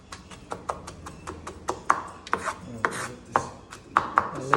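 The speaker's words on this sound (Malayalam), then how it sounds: "ഒന്നുകൂടെ ഗാർലിക് ചോപ്പ് ചെയ്യുന്നത് ഇങ്ങനെ" A knife chops garlic on a board in quick, uneven strokes, close and crisp, with sharp taps and short scraping rubs between them.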